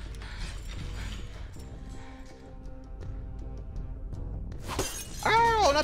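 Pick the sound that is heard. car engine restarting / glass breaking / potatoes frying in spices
glass breaking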